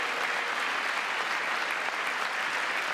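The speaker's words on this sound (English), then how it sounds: "they're clapping and standing" A crowd claps steadily and densely throughout, a continuous wash of applause at even loudness with no pauses, standing as they clap.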